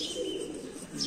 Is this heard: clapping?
no